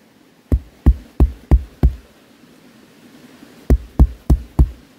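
Footsteps thump on hollow ground above a waterfall along a hiking trail, five heavy, evenly spaced thuds, a pause of a couple of seconds, then five more, close and alone with no talk.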